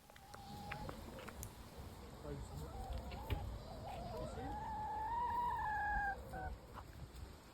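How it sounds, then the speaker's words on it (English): Chickens cluck nearby, with one bird letting out a long, drawn-out crowing call in the middle over faint background noise. "And here's Cameron counting all the chickens to make sure that they haven't escaped."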